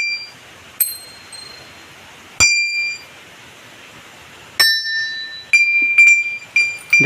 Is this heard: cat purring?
no